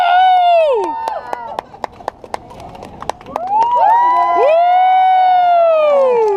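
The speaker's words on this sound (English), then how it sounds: "On lui applaudit très fort, give it a big hand." Street performance crowd cheering loudly with whoops and shouts, scattered sharp claps breaking through between rising voices.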